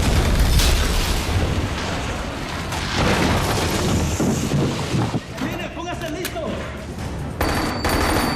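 Weapons firing and explosions in a war action movie battle scene; a dense, continuous roar of booms and gunfire bursts, loud and close, with shouting voices mixed in.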